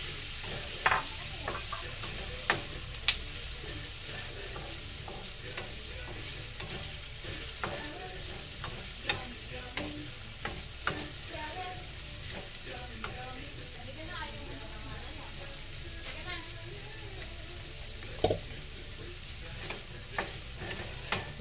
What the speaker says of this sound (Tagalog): Yung hotdog lang muna lulutuin ko.